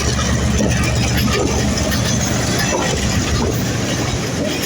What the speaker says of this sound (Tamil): இந்த நம்ம வீடியோ எடுத்துட்டு வார கடைசி நிமிடத்தில் ட்ரெயின் ஒன்று வருது